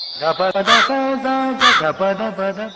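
A cartoon crow voiced by a person, raspy imitated caws in two loud bursts among animated, sing-song chatter, close and dominant.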